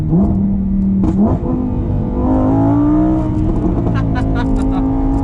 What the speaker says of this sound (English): the full throttle exhaust note of the Evo absolutely takes the cake